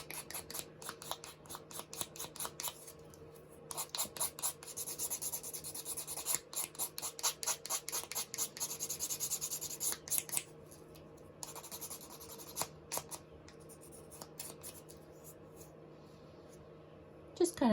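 Rough rasping and rubbing strokes as painted craft dangles are sanded and roughed up by hand, coming in rapid rhythmic bursts with short pauses, fairly close, over a low steady background hum.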